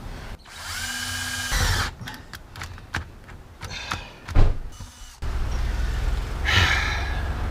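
A battery drill bores into the tilted cab of an LMTV military truck, its motor revving in several bursts with metallic clanks and knocks between, close and fairly loud.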